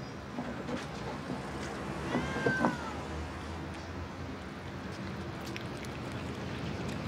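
A cat gives a single short meow partway through, fairly faint against a constant low background rumble and hiss.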